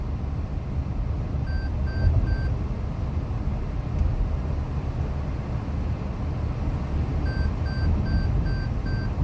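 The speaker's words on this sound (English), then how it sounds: "Now you get an audible signal that lets you know when you're drifting out of your lane." A Toyota lane departure alert sounds inside a moving car: two bursts of repeated short electronic beeps, about three quick tones early and another run near the end, over steady road and engine rumble.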